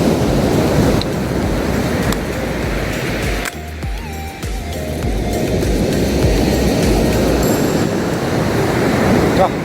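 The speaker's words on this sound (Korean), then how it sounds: "오늘은 좀 파도를 좀 많이 치고 있기 때문에" Rough surf breaking at Yangnam beach in Gyeongju, Korea, a loud roaring wash of waves with wind buffeting the microphone and a brief lull midway, with no talk.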